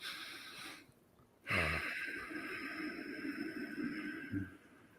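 A person exhales slowly and audibly during a guided breathing exercise, a soft close breath that begins with a sharp onset and trails off into a long, steady airy hiss.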